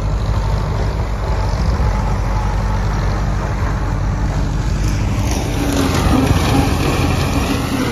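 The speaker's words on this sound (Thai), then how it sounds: "ฟอร์ดรถไถฟอร์ดครับติดคีบโอ้คีบใหญ่ครับ" A Ford farm tractor engine runs steadily, fitted with a large cage wheel, in a village in Det Udom, Ubon Ratchathani, Thailand; a loud, continuous low engine drone carries on throughout with no speech.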